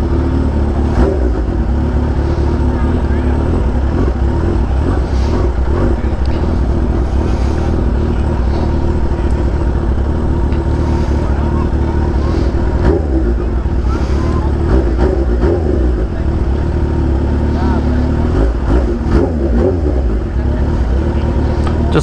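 A Kawasaki Ninja H2 with upgraded clutch springs idles loud and close with a heavy rumbling drone. Small throttle blips rise and fall through it, and a voice talks faintly underneath.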